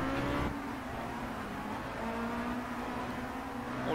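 Race cars overtaking in Project CARS, a steady droning engine whine with a rising pitched tone as another car draws past, moderately quiet and continuous, no talking.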